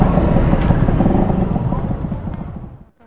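Two-stroke Kawasaki HD3 scrambler motorcycle engine running close by, a loud, steady buzzing rattle that holds for about three seconds before cutting off abruptly.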